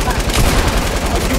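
An LMG machine gun in Fortnite fires a rapid, sustained stream of loud, close shots with a steady rattling rhythm.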